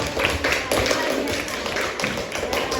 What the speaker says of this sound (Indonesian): give applause. Ya, tepuk tangan buat